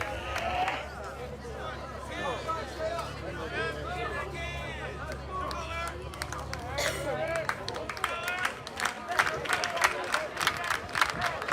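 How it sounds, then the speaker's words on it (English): Baseball crowd roaring and cheering at a high school playoff game, SL versus Terrebonne, a dense sustained swell of voices and clapping with a steady low rumble, growing louder and more excited toward the end. "the crowd is going crazy out there"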